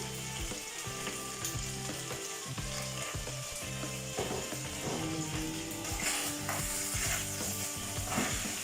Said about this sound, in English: I stir my pork to make sure that it doesn't stick.